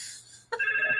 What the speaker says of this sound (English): We got telephones ringing.